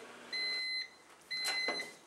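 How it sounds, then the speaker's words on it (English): Two long electronic beeps from a microwave oven heating tortillas wrapped in a wet paper towel, clear and steady over a faint hum, with no talking. "pop those in the microwave"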